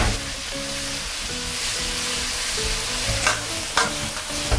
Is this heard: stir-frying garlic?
yes